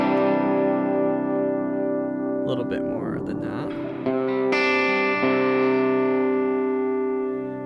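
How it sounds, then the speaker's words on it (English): A Chase Bliss Lost and Found multi-effects pedal set with mild reverb shapes sustained guitar tones with a lingering tail, interrupted briefly by someone talking over the ringing sound. "I'm going to put some mild reverb on here. Here's what that sounds like."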